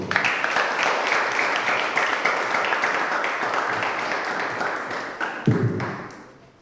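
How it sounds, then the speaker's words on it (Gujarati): Steady applause from a seated audience welcoming a speaker at a public talk, dense and loud clapping sustained for several seconds before tapering off near the end. "તમારી જોરદાર તાળીઓની વચ્ચે રજૂ થાય સચી"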